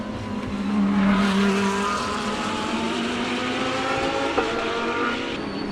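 Lamborghini race cars lapping a circuit in a SAGTRA race, a sustained engine drone with rising and falling pitch as cars pass at a moderate distance, steady and loud throughout, with no talk.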